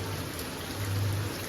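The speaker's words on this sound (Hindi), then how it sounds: "बहुत तेज़ बारिश आ रही है।" Steady, dense rainfall hisses continuously outdoors, a broad wash of falling water with no pauses and no voices.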